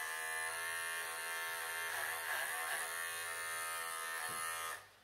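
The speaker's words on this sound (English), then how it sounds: "Not fazed at all by these clippers" Electric clippers trimming matted fur on a cat, a steady close buzzing hum that runs unbroken for about five seconds, dipping slightly in pitch as it cuts, then stops.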